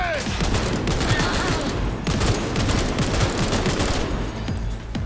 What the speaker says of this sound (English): This little burst weapon is kind of weird.